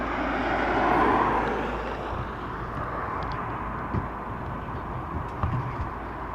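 A Ryanair airliner at Dublin Airport roars past in the distance, swelling early then fading to a steady low rumble with a few faint knocks.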